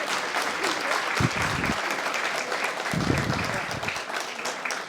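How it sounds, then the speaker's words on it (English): An audience at a guide dog graduation ceremony applauds in a steady, dense wash of many hands clapping, with a few cheers or voices poking through for a moment. "Round of applause."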